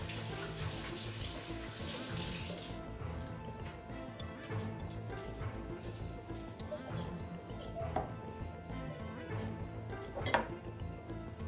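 Okra being washed under a running tap in a home kitchen, a steady close splash of flowing water with occasional light clinks of dishes and no talking.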